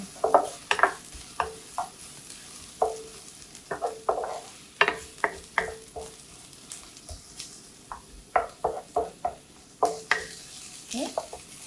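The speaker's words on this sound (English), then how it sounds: "we will pan fry the ginger and the garlic until it is brownish" Ginger and garlic pan-fry until brownish, with a steady sizzle broken by frequent sharp clicks and scrapes of a utensil stirring in the pan, close and fairly loud, with no talking.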